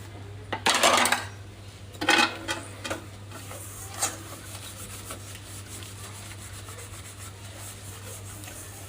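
Dishes being washed by hand: scattered clinks and scrapes of plates and utensils, with a couple of louder clattering bursts early on over a steady low hum, fairly quiet and with no voices.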